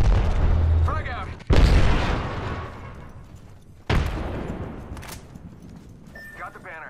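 In Apex Legends, a frag grenade goes off as a heavy booming blast, followed by a second deep explosion a couple of seconds later, each decaying into rumble, with game voice lines and chatter heard in between.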